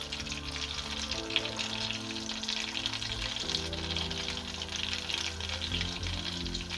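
A potato pancake and sausages fry in melted butter in a pan for a full breakfast. A dense, steady sizzle and crackle runs throughout at an even level, under a low background hum, with no speech.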